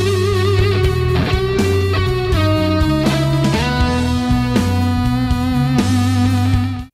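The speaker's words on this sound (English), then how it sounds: "There's a little guitar melody that kind of dips into the melodic minor mode." An electric guitar plays a melodic lick that dips into the melodic minor mode, with hammer-ons among sustained, slightly effected notes over a bass line and full band backing, loud and continuous for about seven seconds.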